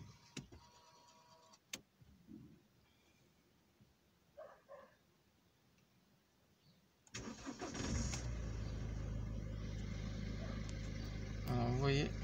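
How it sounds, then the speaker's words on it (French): A car engine cranks and catches after a part replacement, jumping from near quiet to a loud, steady close idle that runs to the end, with a brief rise near the finish; speech is heard faintly before the start. "Je vais démarrer la voiture après le changement de la manugère."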